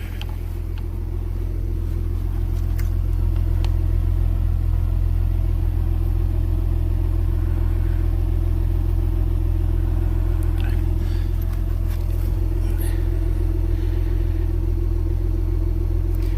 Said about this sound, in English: go over and test the Ford Explorer Sport at idle. It's basically just sitting here warming up.